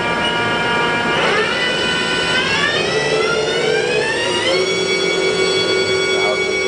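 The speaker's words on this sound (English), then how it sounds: "We're running the spindle" A Haas vertical machining center spindle runs at speed, giving a loud continuous whine whose rising tones climb in pitch as it accelerates, over a steady mechanical drone.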